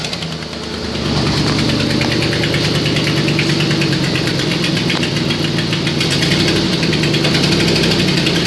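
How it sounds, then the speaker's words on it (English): A 2007 Mercury Mountaineer with 174,583 miles and an exhaust leak starts and runs steadily at idle, its loud, close engine rumble and rhythmic ticking filling the space without any talk. "Engine run video."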